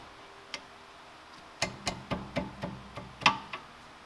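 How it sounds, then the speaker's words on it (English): A wrench works loose the 12mm brake caliper bolts on a 2013 Honda Accord, giving a row of evenly spaced sharp ratcheting clicks, faint and close, after one isolated click. "We're going to start off with loosening up these 12mm bolts right here."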